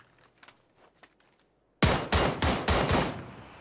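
Tommy gun fire in a first-person shooter video game: after a quiet stretch of faint taps, a loud close burst of about six rapid, punchy shots ends the clip.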